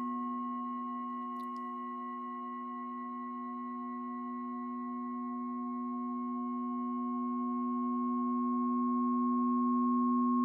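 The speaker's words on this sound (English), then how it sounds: "you can now hear the effect of the nylon string resonator on our sound" A steady synthesizer drone passed through a nylon string resonator effect holds a sustained, resonant tone throughout, swelling slightly louder toward the end, with one brief click near the start.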